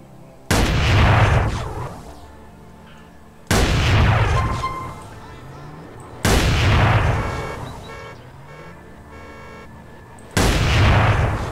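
Four loud shotgun blasts from a red-and-black weapon pack in GTA San Andreas, each a sharp boom followed by a fading tail, spaced about three seconds apart, with no voices.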